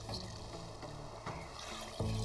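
Water from a soaked sock trickles and dribbles into a mug, a soft, steady liquid flow close by with a slightly louder gush near the end.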